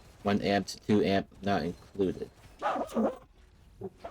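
A dog barks several times in a quick, rhythmic series, fairly close and loud, followed by a softer yip near the end; a person speaks briefly in the gap between the barks.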